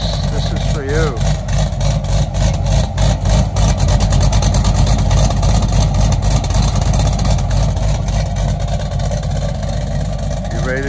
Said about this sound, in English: What a great sound. If you love a cam C6, this is for you.